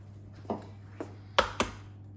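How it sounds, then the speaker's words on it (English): Four eggs are cracked into chocolate beetroot cake batter, heard as a few sharp close knocks and cracks, two faint taps followed by two louder ones in quick succession, over a quiet kitchen background. "We're going to add 4 eggs to this."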